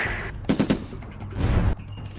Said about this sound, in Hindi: सभी आतंकवादी इनाया पर गोली चलाने लगे